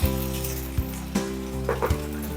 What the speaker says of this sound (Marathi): तर चला मग आता हे आपण छान असे तळून घेऊया